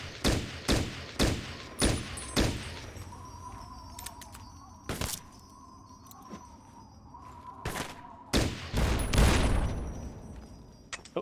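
Gunfire in Fallout 3 with the Capital Punishment mod list, pipe rifle shots: a quick run of sharp, loud reports early on, then scattered single shots and a heavy closing burst, with a steady low hum underneath.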